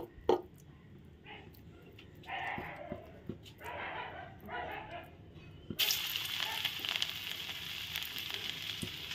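Banana flower fritters drop into hot oil. After some quiet clinks and handling noises, a steady sizzle starts partway through and continues to the end at moderate loudness.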